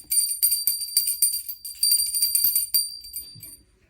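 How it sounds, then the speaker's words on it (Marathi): A small handheld puja bell rung for Vasubaras, giving bright, rapid metallic ringing that carries on for several seconds and then fades out. It is close and heard alone. "बेल वाजवायची असते."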